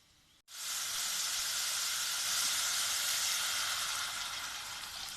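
Loud, steady sizzling of pork frying in hot oil, starting abruptly and continuing as a dense, even hiss with no talking.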